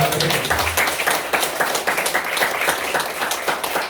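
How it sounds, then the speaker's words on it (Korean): A congregation claps during a sermon at a Korean church's Nowon sanctuary, a voice briefly overlapping at the start before brisk, rhythmic handclaps continue at close range. "박수 주세요."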